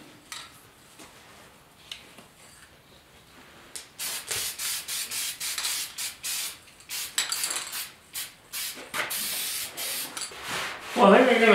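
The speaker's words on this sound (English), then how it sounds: "So everything has to get sanded before we can do any of the caulking." Hand sanding with sandpaper on the steel cab of a 1972 Ford 4x4 short box truck during paint prep, a steady series of close rhythmic scraping strokes that grow louder and quicker midway.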